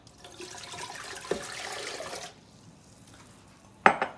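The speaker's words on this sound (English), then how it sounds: "So first of all, I'm gonna add my water." Water pours over kale for about two seconds, a steady rushing splash that cuts off abruptly, followed by a brief sharp knock.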